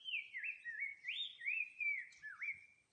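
Perched high in a tree, a bird pours out a quick string of bright, looping whistled notes that swoop up and down in a steady run, soft and clean against a quiet background with no voices.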